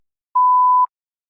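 A single steady electronic beep tone signalling the start of a response in a TOEFL speaking practice test, loud and clean, lasting about half a second and heard alone against silence.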